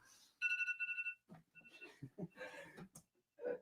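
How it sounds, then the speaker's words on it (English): A phone alarm rings with a steady repeating electronic tone for about a second, then brief chuckles and talk follow close by while a shorter tone returns. "Sorry, my alarm's going off."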